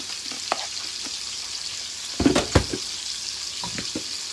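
Broccoli being stirred in cheese sauce in a pot over low heat, with a soft steady bubbling hiss and a few light clinks and scrapes of a spoon, a louder cluster of knocks midway.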